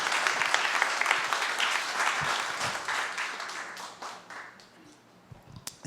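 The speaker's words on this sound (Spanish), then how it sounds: "Démosle un aplauso al Señor." A church congregation applauds together after a sermon prayer, a dense wash of clapping that starts loud, thins out, and fades toward the end with a few scattered late claps.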